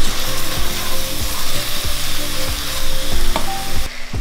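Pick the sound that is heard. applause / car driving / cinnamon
cinnamon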